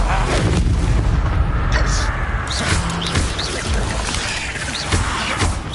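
Confringo fire spell explosions go off in the video game Hogwarts Legacy, loud booming blasts over dense, continuous battle noise.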